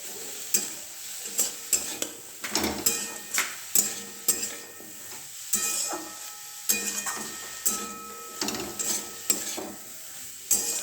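Butter sizzles in a pan as chicken soup ingredients are stirred, a soft continuous hiss punctuated by frequent clicking scrapes of a spoon against the pan, close and without speech.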